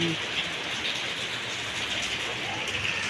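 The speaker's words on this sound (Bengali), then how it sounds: "ঝড়ঝড় করে বৃষ্টি পড়ছে" Heavy rain pours steadily onto the ground and surfaces outdoors in a village, a dense, even wash of drops at moderate level with no pauses.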